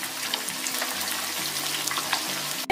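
Oil heating in a pan before marinated curd chicken pieces go in for chicken chukka, giving a steady close, continuous sizzle with no talk, ending in a brief sharp sound.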